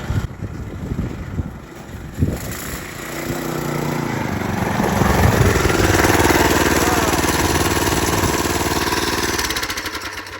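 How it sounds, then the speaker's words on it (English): A modified Tao Motor Baja Sprinter 212 minibike engine rumbles nearby, sputtering at first and then revving into a steady, loud drone as it pulls away and runs on. "That's the Tao Motor Baja Sprinter 212."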